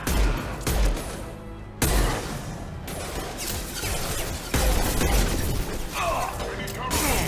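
Enemy gunfire and crashing impacts in a Mass Effect 2 firefight, with repeated loud bursts and booms, while someone talks through the shooting.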